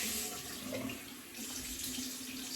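A tap runs into a sink as soapy hands are rinsed under the stream, a steady near rush of water that shifts slightly as the hands move through the flow.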